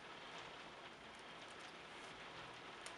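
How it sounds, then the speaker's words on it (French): Rain falls steadily outside as a soft, even hiss, faint and continuous with no voices over it. "Alors veuillez m'excuser pour le bruit de fond. Il pleut, comme d'habitude."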